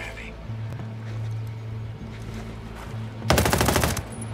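Video game gunfire during a military shooter mission: a short, loud burst of rapid shots breaks out near the end over a steady low engine-like hum.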